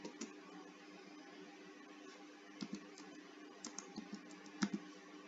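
Computer keyboard typing as a number is entered during an online registration form, soft scattered key clicks in short irregular bursts over a low steady hum, faint and without talk.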